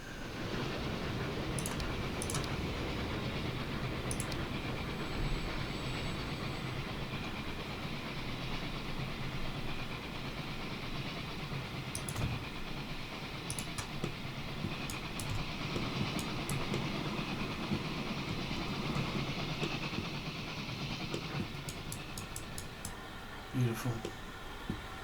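Trains running in the video game Transport Fever 2 give a steady rolling rumble with occasional clicks and high squeals, carrying on beneath continuous narration.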